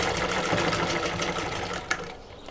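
Sewing machine stitching blouse fabric with a steady, continuous whirring run of needle strokes, close and fairly loud, with a brief sharper clack near the end and no talking.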